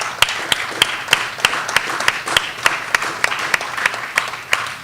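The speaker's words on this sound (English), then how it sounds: "Can you give another clap?" An audience at a youth business idea event claps in a steady, sparse rhythm, individual sharp claps spaced about every third of a second over a soft bed of scattered hand claps, fairly close and moderately loud.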